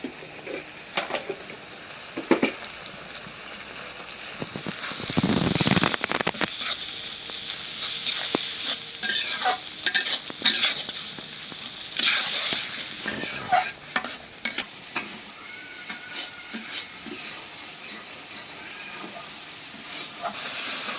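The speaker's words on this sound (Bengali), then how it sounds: "মশলা একদম ভাজা ভাজা করে নিলাম" Turmeric, chili and coriander powder frying in a pan as they are stirred, with a steady sizzle and hiss and repeated scraping stir strokes. The sound is close and continuous, with louder bursts partway through and no talk.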